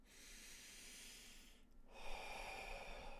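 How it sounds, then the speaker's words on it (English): A slow, deep breath is drawn in and then let out, a soft airy hiss rising and falling, with a brief pause between inhale and exhale, quiet and close. "Let's take a deep breath in, deep breath out."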